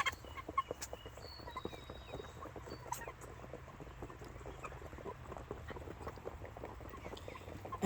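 Freedom Ranger meat chickens in outdoor tractors cluck and peep faintly, with scattered soft calls and scratching ticks over quiet background ambience.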